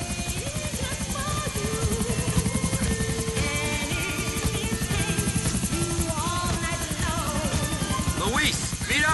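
Helicopter in GTA IV (The Ballad of Gay Tony) flying over Happiness Island, a steady loud rotor buzz and whine throughout, with game voices talking over it.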